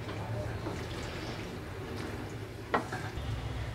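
Pasta with cheese being stirred in a pan on a stove: a steady, soft sizzle and scraping runs throughout, with one brief sharper clink near the end.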